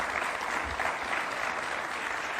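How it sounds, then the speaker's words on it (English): An audience at a presidential launch event for a refugee citizenship plan breaks into sustained applause, a broad, even wash of many hands clapping that holds steady with no voices over it. "A round of applause for His Excellency one more time."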